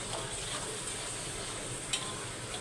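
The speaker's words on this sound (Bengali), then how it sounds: "মশলাটা ভালো করে কষাইয়ে দেবো" Ground turmeric, chili, coriander and cumin fry in hot oil as a curry masala is stirred, making a dense, steady sizzle with one sharp scrape of the utensil near the end.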